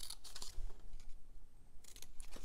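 A paper rectangle being cut out with scissors for a small tea light luminaria, giving a few brisk, close snipping and rustling bursts in a quiet room.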